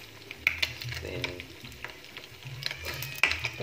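Vegetable lodeh with coconut milk being stirred in a pot: a spoon scrapes and knocks against the pot in a steady rhythm over a soft simmering sizzle, with small clinks at intervals.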